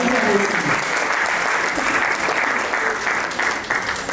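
A church congregation applauds steadily throughout, a dense, sustained clapping of many hands that fills the room.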